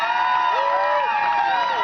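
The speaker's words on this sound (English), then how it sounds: "Give her a huge round of applause" An audience cheers and whoops with excited high voices and crowd noise, sustained and loud for about two seconds after a performer is introduced, with no clear clapping standing out.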